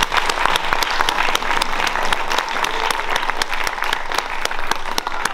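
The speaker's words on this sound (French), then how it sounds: "Donc, Monsieur Trémaux, je pense qu'on peut l'applaudir." A crowd applauds Monsieur Trémaux at a charity event in Beaune, with lively, close clapping full of sharp individual hand claps over a steady bed of applause throughout.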